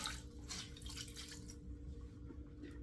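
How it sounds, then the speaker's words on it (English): Warm tap water runs into a sink while hands are rinsed under it, a soft splashing stream that is louder in the first half, then settles to a faint steady trickle with a low hum. "I can still put my hands under the water. I'm just rinsing that a little bit."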